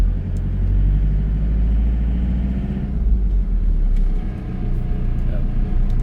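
A 1995 Ford pickup truck engine revs and rumbles steadily while driving in second gear, a loud, close low drone with a slight dip in pitch partway through.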